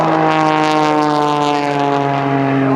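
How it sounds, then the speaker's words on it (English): A loud propeller plane flying knife edge at the 2005 NAS Oceana Airshow drones close by, its steady buzzing tone sliding slightly as it passes. "I'm going to use the fuselage of the airplane to provide the lift"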